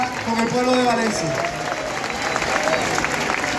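A crowd applauds at a Christmas lights switch-on in La Laguna, a dense patter of clapping heard under a voice talking over it in Spanish.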